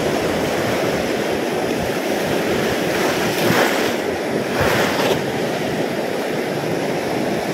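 Rough sea waves crash and wash continuously under gusting wind on a stormy day during sabiki bait fishing, a loud broadband roar with two stronger surges midway and wind buffeting the microphone.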